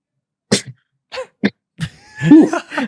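A short burst like a sneeze, then a few small nasal sounds, followed by someone briefly talking at close range.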